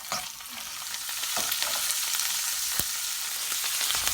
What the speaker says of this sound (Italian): e farle rosolare a fuoco vivo per qualche minuto.